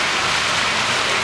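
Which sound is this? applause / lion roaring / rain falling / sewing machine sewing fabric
rain falling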